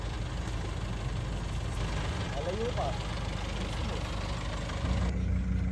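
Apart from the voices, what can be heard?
vehicle engine idling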